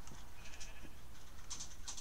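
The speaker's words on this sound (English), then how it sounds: "Pink sheep." Pink sheep in a Minecraft modpack bleat in short, repeated game sound bursts over a steady background, a few calls spaced across about two seconds.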